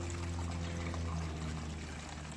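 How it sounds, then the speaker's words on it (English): Water trickles and pours steadily in a self-filling indoor fountain, a continuous close splashing wash with no pauses, heard alone. "It's a water fountain that actually self-fills."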